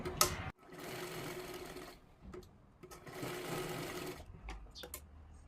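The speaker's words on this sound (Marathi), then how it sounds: "इथे एक व्यवस्थित शिलाई करून घ्यायची आहे" Sewing machine stitching blouse fabric in two steady, whirring runs of about one and a half seconds each, separated by a short pause, close and clear, with light clicks of handling the cloth around them.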